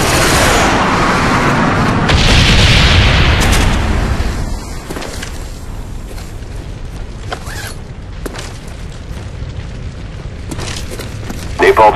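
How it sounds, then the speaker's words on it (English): Napalm strike explosions rumble in the video game Call of Duty Black Ops, a loud sustained roaring blast that fades into scattered booms, gunfire and creaking game noise, with a brief voice underneath. "Friendly napalm strike on the way"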